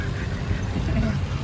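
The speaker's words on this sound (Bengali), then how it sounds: "এই দেখুন হাঁসগুলা একবার ফ্রেশ" Ducks quack in a short burst outdoors during rain, close and fairly loud over a noisy, rough background.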